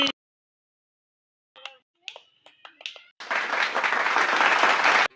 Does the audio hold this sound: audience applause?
yes